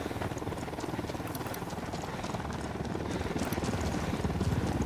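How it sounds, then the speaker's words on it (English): Helicopter flying low in Ghost Recon Wildlands, a dense, continuous rotor chop with rapid rhythmic thudding that grows slightly louder toward the end, with no speech. "Need that chopper to stay low."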